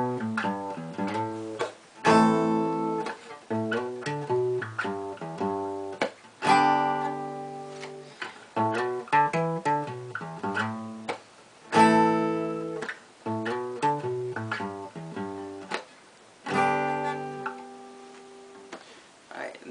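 The guitar intro to a song, played as a repeating pattern of strummed power chords broken by crisp percussive string slaps, steady and up close over about twenty seconds, with no voices.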